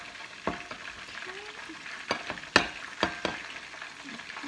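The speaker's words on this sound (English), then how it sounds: "Whisk that in." A sauce mix for Lao boneless chicken feet salad is whisked in a bowl, a few sharp clinking strokes scattered over quiet background.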